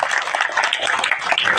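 An audience at a college event applauds, a dense, even patter of many hands clapping steadily at moderate loudness throughout.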